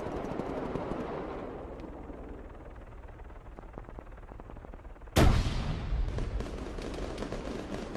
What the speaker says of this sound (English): More grenades coming in.